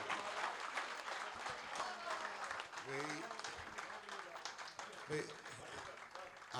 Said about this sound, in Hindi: भरपूर तालियों में इस्तकबाल।